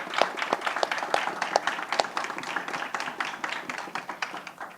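A conference audience at a panel on tobacco harm reduction in South America applauds the panelists, dense, steady clapping with individual claps audible throughout, close and moderately loud.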